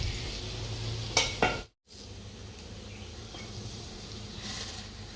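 Bora fritters sizzle in hot oil in a home kitchen, a soft continuous crackle at low level, broken by a couple of brief clatters and one short dropout.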